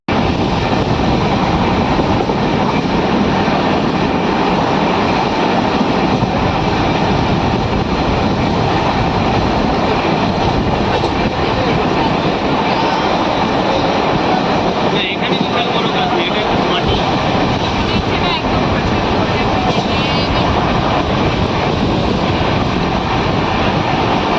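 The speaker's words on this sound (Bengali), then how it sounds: "এখন আমাদের ট্রেন ঢুকছে" A passenger train pulling into a station on an Indian rail journey near Balasore gives a loud, unbroken roaring rumble that stays close and steady throughout.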